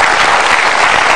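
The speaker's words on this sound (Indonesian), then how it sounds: "Boleh kasih tepuk tangan untuk Mas Apung Widadi." Studio audience applause on a talk show, a brief, loud, continuous wash of many hands clapping close to the microphone.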